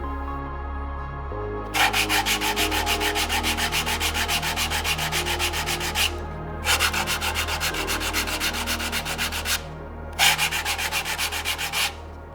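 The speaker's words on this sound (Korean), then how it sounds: "그런 다음 사포로 면을 잡아줍니다." Sandpaper smoothing the face of a handmade wooden tray in three long, steady scrubbing passes separated by short pauses, close by, over a low constant hum.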